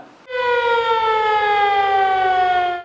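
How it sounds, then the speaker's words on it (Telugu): A civil defence air raid siren sounds at 4 o'clock for a mock drill, a loud, steady wailing tone held for about two and a half seconds before it stops abruptly. "సరిగ్గా 4ంటికి ఒక సైరన్ మోగుతుంది ఇలా."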